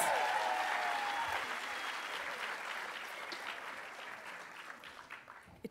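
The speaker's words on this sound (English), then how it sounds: "think at least one more round of applause is due for that." Lecture hall audience at a peace lecture applauds warmly, a full burst of clapping that starts loud and gradually thins and fades toward the end, a faint tone lingering briefly at the start.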